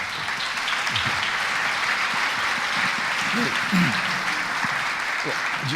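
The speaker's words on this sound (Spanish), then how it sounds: "Un aplauso para Emilio, por favor." A church congregation applauds for Emilio, a steady sustained patter of clapping with some voices murmuring underneath throughout.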